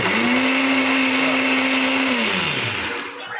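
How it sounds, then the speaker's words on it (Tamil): A kitchen mixer grinder grinding masala for mutton gravy whirs loudly and steadily up close, its motor pitch holding then dropping as it winds down near the end. "மிக்சியில் அரைச்சி எடுத்து"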